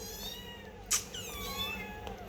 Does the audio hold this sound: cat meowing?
yes